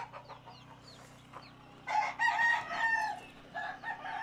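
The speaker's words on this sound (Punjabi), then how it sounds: "ਇਹ ਸਾਰੇ ਲੜਾਕੂ ਮੁਰਗੇ ਆ।" Fighting roosters penned in a truck yard cluck and crow, a few short clucks followed by louder overlapping crowing, close but fairly quiet over a low steady hum.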